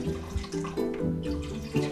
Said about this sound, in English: I use filtered water